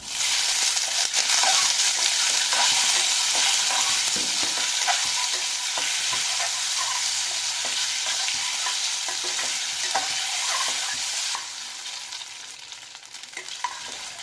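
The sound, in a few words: stirring steamed kozhukattai dumplings in a pan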